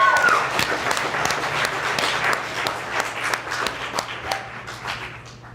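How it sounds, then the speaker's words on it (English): Audience clapping for a performer at a comedy monologue slam, a fairly close burst of scattered claps with a faint hum beneath, gradually thinning as it goes. "a round of applause for Sydney Van Delft."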